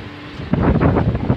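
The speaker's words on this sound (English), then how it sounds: "really windy" A sudden loud blast of wind rumbling against the microphone at Mdina, Malta, gusting and pulsing for about a second.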